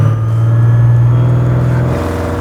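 A supercharged 1971 Chevy Nova hot rod engine runs loud and close in a steady, throaty rumble, then eases slightly toward the end with no talk over it.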